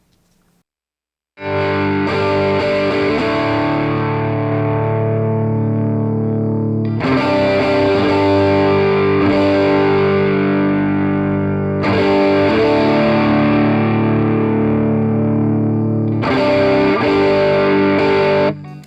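Heavily overdriven electric guitar chords through a LAMB overdrive pedal ring out loud and sustained, in several long strummed sections with brief breaks between them.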